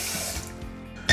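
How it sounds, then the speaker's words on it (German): Water pours from a tap into a small pot holding sugar, a brief hissing splash that fades and then bursts loudly again at the end. "einfach Zucker rein und dann guten Schluck Wasser dabei"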